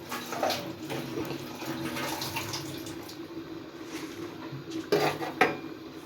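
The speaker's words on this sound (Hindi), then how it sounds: "आगे बर्तन धो रही है" Dishes, pots and pans being washed at a kitchen sink, with running water under clinking cutlery and a couple of sharper metallic clanks near the end, no talk.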